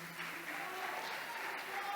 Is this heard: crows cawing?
no